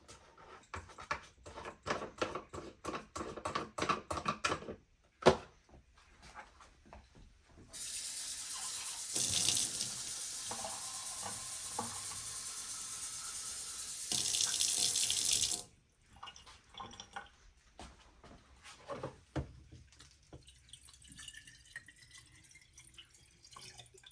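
Water runs from a kitchen tap for several seconds in the middle, a loud, steady hiss and splash that swells briefly near its end before cutting off, set between quieter clatter, drips and handling noises.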